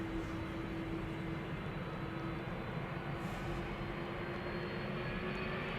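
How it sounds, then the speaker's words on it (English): A distant jet engine rumbles and drones steadily at a busy airport, a faint broad roar with a faint sustained tone from a GE90 spooling up for departure at Amsterdam Schiphol. "I think those are GE90 spool-up sounds emanating from the main platform area"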